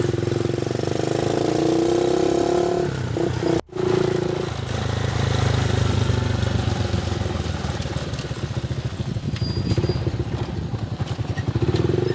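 Motorcycle engine rumbling loud and close while riding along a rural road in the Philippine countryside, a steady droning hum with a brief dropout near the start, then a throbbing, pulsing engine note with wind noise.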